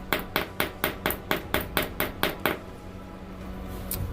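A hammer beats out a 1986 Ford Mustang Foxbody trunk latch laid on the ground, about ten evenly spaced metallic blows in quick succession before the striking stops.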